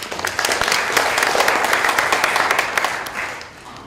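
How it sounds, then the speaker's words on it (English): A conference audience at a public health panel breaks into brisk, steady applause that fades slightly near the end. "Give him a big applause"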